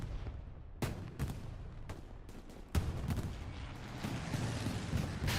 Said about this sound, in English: Precision strike called in.